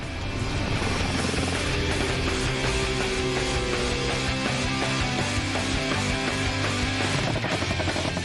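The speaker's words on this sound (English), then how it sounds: "The light combat helicopter is built to seek and destroy" A light combat military helicopter flying low, its dense, throbbing rotor roar filling the whole stretch, loud and close, with a steady pulsing beat.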